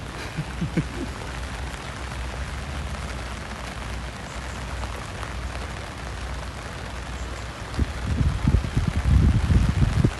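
Steady rain falls throughout a walk at Prince of Songkla University in Phuket, a dense hiss that swells louder and rougher near the end, with no talk over it.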